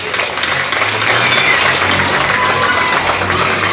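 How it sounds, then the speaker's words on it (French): Applause from an audience at a regional committee meeting of the MPM political party, a steady mid-level wash of clapping that fills the whole stretch with no voices over it. "nous faisons applaudir le leadership de nos camarades Alan Ganou."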